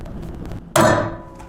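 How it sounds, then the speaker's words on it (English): A single sharp pop of a blind rivet being set by a hand riveter, loud and close, arriving abruptly after a low stretch of quiet workshop noise, followed by a decaying ring and a second faint click at the end. "In this case, we'll use blind rivets."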